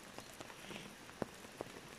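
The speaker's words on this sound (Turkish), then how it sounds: "12 saattir beri yağmur yağıyor." Soft, steady patter of rain on the Pürenli plateau, with a few louder individual drips standing out against the hiss.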